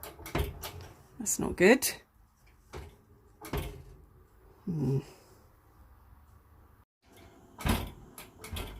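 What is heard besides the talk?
new oven door rattling as it is shut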